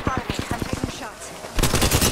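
Rapid gunfire in Apex Legends striking the player, a quick evenly spaced burst of sharp shots followed by a denser, louder volley with impact noise, no speech over it.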